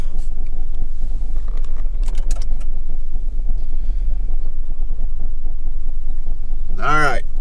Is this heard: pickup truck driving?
yes